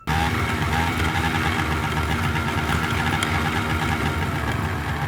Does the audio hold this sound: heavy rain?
no